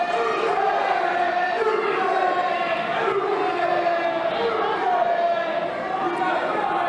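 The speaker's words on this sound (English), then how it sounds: "Storm Grayson getting heckled by the crowd." A wrestling crowd heckles Storm Grayson during his match against Jimmy Shane, a dense, steady wall of shouting and jeering voices that stays loud and close throughout.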